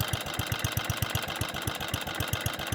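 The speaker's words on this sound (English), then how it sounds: "Listen to that exhaust." A cylinder lawn mower's engine idles at low tick-over, its exhaust giving a steady, rapid chugging pulse, close and even, with no talk over it.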